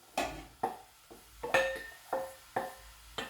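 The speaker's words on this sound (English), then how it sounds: "I'm going to add the potatoes. I've got 2 cups of diced potatoes." Diced potatoes, two cups, are tipped into a soup pot of coconut, kale and green peas in a series of seven sharp clattering knocks and scrapes against the metal, evenly spaced and fairly close.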